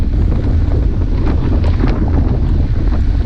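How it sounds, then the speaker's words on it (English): Strong wind roars into the microphone during a group road cycling ride with a crosswind from the right, a loud, constant buffeting rumble that fills the whole stretch with no voices. "the wind is coming from the right and in our face"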